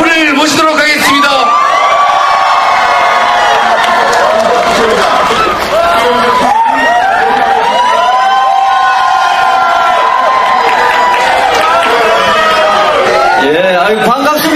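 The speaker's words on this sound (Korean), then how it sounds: "여러분들 힘찬 함성으로 강달프를 모시도록 하겠습니다" A large crowd at an outdoor political rally against a Korea–US free trade agreement cheers and whoops loudly and continuously, welcoming a speaker with sustained shouting that swells and dips across the whole stretch.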